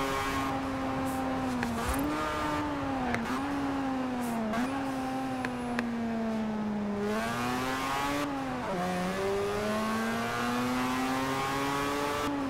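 A 2002 Mazda RX-7 Spirit in Forza Horizon 4 roars close and loud with a sustained engine note that rises and dips through repeated revs and shifts, with no talk.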